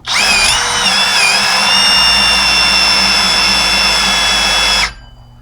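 A drill spinning a nylon abrasive wheel against the thermostat housing of a 1987 Jeep Comanche, a loud, steady high-pitched whine with slight pitch wobbles early on, running close and alone for nearly five seconds before stopping abruptly.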